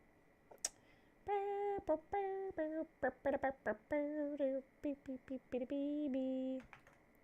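Fast bursts of typing on a smooth, light-switch computer keyboard, clicking in quick irregular runs, with sustained tonal sounds woven through the keystrokes.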